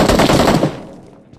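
Rapid automatic gunfire in Battlegrounds Mobile India: a loud, close, dense burst of shots lasting about half a second, then a fading tail of echo.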